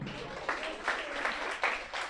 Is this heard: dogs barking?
no